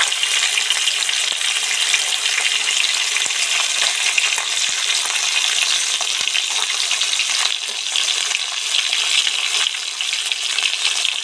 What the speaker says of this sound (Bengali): আস্তে আস্তে ধরে ধরে মাছগুলো টিপ ফ্রাই করে ভাজতে থাকবো।